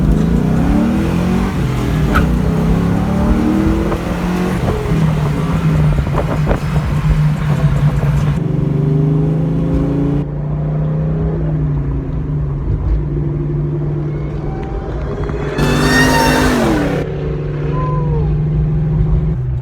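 Ford Mustang engine at steady idle with a deep low rumble throughout, a brief sharper rev rising near the end, no speech.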